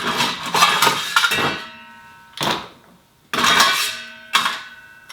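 Ice rattles and clinks inside a cocktail shaker while an amaretto sour is being made, several loud bursts of chunky clattering separated by brief silences, close and bright.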